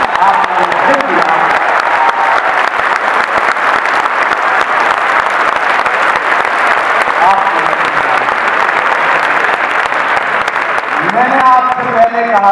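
A large audience claps and cheers at a live stage program in Indore, with dense, sustained applause that fills the whole stretch and a voice beginning to speak over it near the end.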